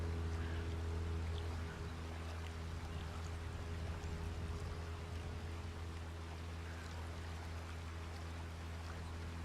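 A boat motor runs at full throttle in a kayaking video game, a steady low drone over continuous rushing water and splashing, holding even for the whole stretch with no talk.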